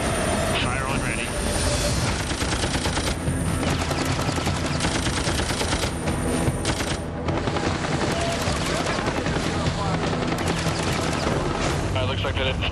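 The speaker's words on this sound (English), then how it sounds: "Looks like they didn't stop on the first set of warning shots" Machine gun warning shots fired from a Navy helicopter over pirates at sea, loud rapid bursts riding on the constant roar of the rotor and engine, with radio voices talking throughout.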